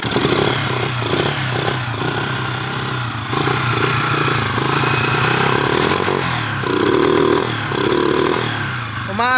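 A motorcycle engine with a misfire runs roughly, its uneven, stuttering chug repeatedly faltering and picking up again, loud and close, with intermittent sputters and clattering under a constant mechanical drone.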